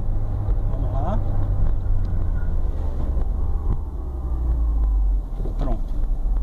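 A Peugeot 307 engine rumbles low and steady, slowing as the AL4 automatic transmission engine-brakes under braking, with a soft drop in drone near the end.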